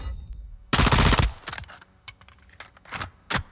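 P90 submachine gun hip-fired in Call of Duty Modern Warfare II, a loud sustained burst of rapid automatic fire lasting about half a second, followed by scattered shorter bursts and clanks.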